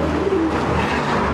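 A racing pigeon gives a soft, low coo that rises and falls once or twice against steady background hum, close by and with no voices.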